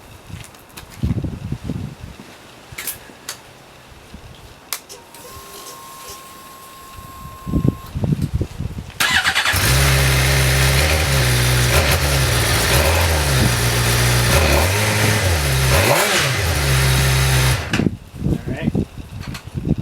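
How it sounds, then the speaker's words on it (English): A 2011 Suzuki GSX-R600 sport motorcycle on its stock OEM exhaust, heard after some quiet shuffling and a brief tone: the engine catches and holds a loud, steady idle with a few revs, then cuts off abruptly. "I'm just going to start up the OEM exhaust real quick just to get a sound difference"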